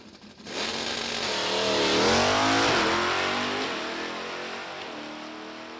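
A clutch-shifted M stock drag race car at an NHRA Sportsnationals event accelerates hard down the strip, its loud engine climbing in pitch, dipping briefly at each shift and rising again as it pulls steadily away.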